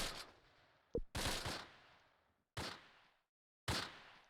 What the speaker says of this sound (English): I hear lots of rifle fire